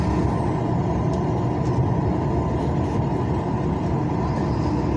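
A truck rumbles steadily and close by on the BR-101 highway in Sergipe, Brazil, giving a continuous low engine and road roar with no voices over it.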